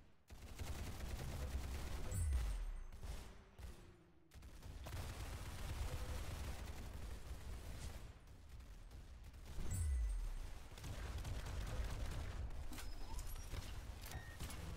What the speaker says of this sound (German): Aber war jetzt nice Schüsse, die ich gemacht habe.